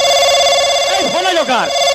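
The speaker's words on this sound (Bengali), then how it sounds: "আরে ফোন আইছে কার" A telephone rings with a steady electronic tone, loud and close, while a voice starts talking over the ringing partway through.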